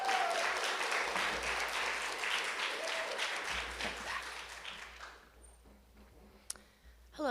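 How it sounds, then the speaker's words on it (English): An audience at a university accessibility achievement ceremony applauds warmly as a graduate takes the stage, the clapping swelling and then fading into near silence with a few stray clicks. "Let's give a warm round of applause for Ellie as she takes the stage."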